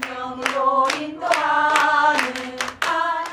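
A church congregation sings praise and claps in a steady rhythm, with sharp hand claps roughly every half second over the sustained sung voices.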